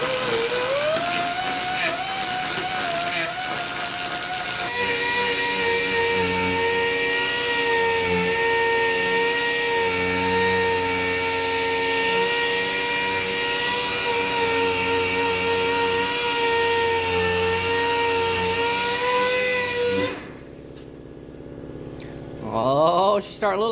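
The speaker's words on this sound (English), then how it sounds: "What I'm grinding down is the welds raw." Grinder smoothing weld seams on a 1967 Ford Mustang panel, a loud sustained high whine with shifting pitch that runs steadily, then cuts out near the end before briefly spinning up again.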